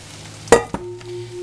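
Vegetables dropped into a hot pan and stirred, a sharp burst of sizzle followed by a second smaller hiss, then a quiet steady frying hum.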